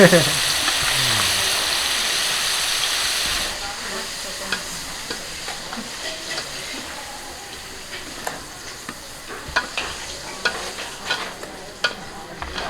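Flour-coated meat fries in hot oil during communal cooking for a village wedding celebration, a loud steady sizzle that is fiercest at first, then settles, with scattered spatula clinks.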